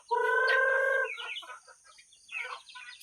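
Chickens being fed at a farmyard, with one loud drawn-out crow near the start followed by scattered clucking from several birds and a steady high insect-like buzz behind them.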